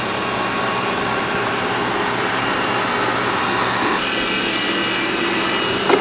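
A Roborock S6 Pure robot vacuum with LiDAR navigation running close by, giving a loud, steady whirring hum that holds level throughout with no speech.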